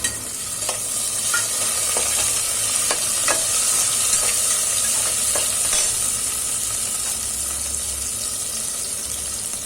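Tomatoes going into a simmering dal khichdi mixture in a pan make a steady, fairly loud sizzle and bubbling hiss, with a series of clear utensil scrapes and taps as the mixture is stirred.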